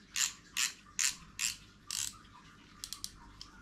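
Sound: fishing reel drag being tightened, ratchet clicking

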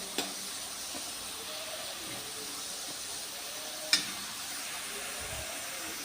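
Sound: chopped onions frying and being stirred

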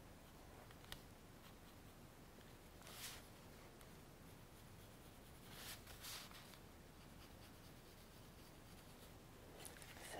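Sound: sketching on paper

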